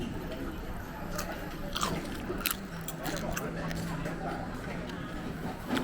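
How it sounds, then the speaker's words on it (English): Crunchy chewing of crispy fried pork skin at a floating market in Thailand, a steady run of close, open-mouthed bites and crackles over low market bustle with faint voices in the background. "I was actually chewing with my mouth open so you could hear it"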